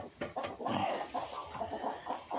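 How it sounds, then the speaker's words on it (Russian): A hen clucks softly in a series of short, low calls, fairly close and with nothing else going on. "Курица тут лазит, и все, она тут что-то ищет."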